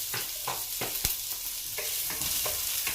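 Onion sautés with garlic in a pan, giving a steady close sizzle broken by repeated scraping strokes and sharp taps of a utensil stirring.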